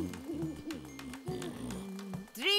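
A cartoon owl in a Tinga Tinga animated tale gives a series of wavering, warbling hoots, several calls in quick succession, close and fairly loud, ending in a rising squeal.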